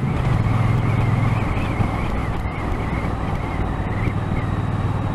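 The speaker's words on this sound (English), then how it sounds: "Sorry for the traffic." Road traffic rumbles steadily nearby on a busy day, a continuous wash of passing car noise with some wind buffeting on the microphone.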